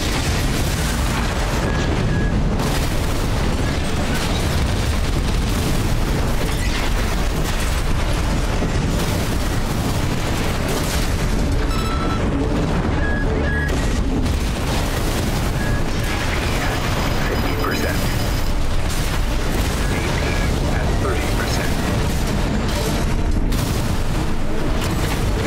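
Missile explosions in the mecha video game Armored Core VI: a dense, loud, unbroken barrage of booms and blasts that roars for the whole stretch with no pause.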